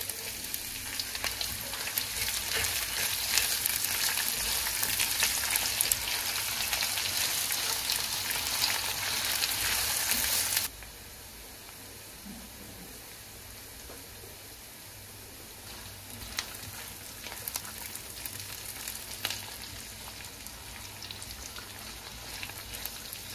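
Onions frying in a pan with almonds and pine nuts give a dense, steady sizzle that is loud for about ten seconds, then drops to a softer, crackling hiss with occasional pops.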